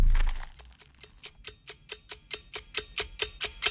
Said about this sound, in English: drowning out all sounds except for the ticking timer